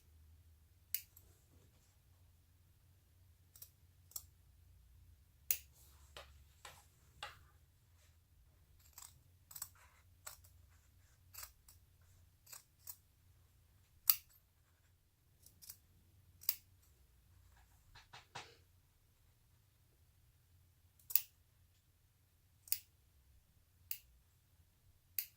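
Scissors cut through fabric along a stitched line, producing scattered sharp snips and crisp clicks over a low, quiet background hum, with irregular gaps between cuts.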